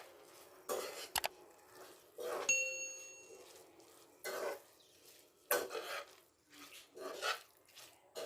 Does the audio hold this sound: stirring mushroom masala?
yes